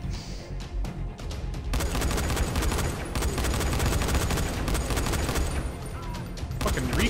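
Dying Light 2 gunfire: a few scattered shots at first, then a long, dense burst of rapid automatic fire that runs almost without a break, loud and close, with a voice briefly audible near the end.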